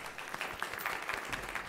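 Brief, steady applause for the Fredericksburg City Public School Board at its meeting, a short burst of clapping heard alone without talk.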